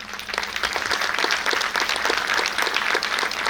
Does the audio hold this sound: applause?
yes